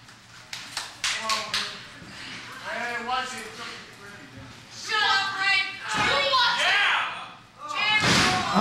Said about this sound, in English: Oh, she slammed her right on her arm.